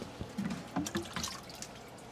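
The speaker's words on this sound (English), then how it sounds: "Now I'll water him in." Water poured from a can onto the soil of a freshly potted begonia or petunia cutting set in perlite, giving a few soft splashes and drips close by with no talk.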